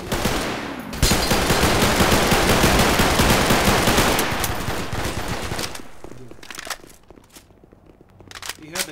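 Loud automatic gunfire in a Garry's Mod roleplay game: a dense, rapid burst runs for several seconds, then thins into scattered shots and fades, with voices faintly mixed in.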